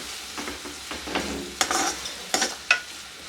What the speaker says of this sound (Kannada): ಸ್ವಲ್ಪ ಕಲರ್ ಚೇಂಜ್ ಆಗೋ ತನಕ ಹುರ್ಕೊಳ್ಳೋಣ ಇದನ್ನು